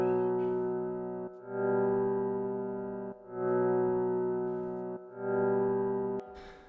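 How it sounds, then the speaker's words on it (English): A drill-style piano melody in FL Studio, slowed to half speed, plays as three sustained phrases, each swelling up in volume after a short gap, giving a soft, pulsing fade-in effect with no voices. "It's this half-speeded piano fading in a little bit."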